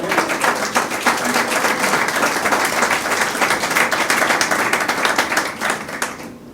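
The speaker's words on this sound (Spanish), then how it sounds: "Denle un aplauso al Señor Jesús." A church congregation gives loud, steady applause during a sermon: many hands clapping together for several seconds, close and full, before the clapping tapers off at the very end.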